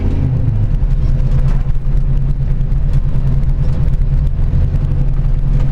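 A 1970 Chevrolet Chevelle Malibu Sport Coupe drives in a tight circle, its engine holding a loud, steady low rumble with no break throughout.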